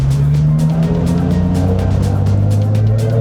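A Nissan 370Z fitted with a Greddy EVOlution GT cat-back dual exhaust drives in circles inside a shop, its engine humming with a steady, rising tone at moderate revs, close and fairly loud.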